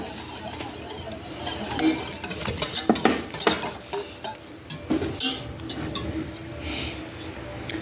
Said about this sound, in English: add in my brown sugar and stir it until it dissolves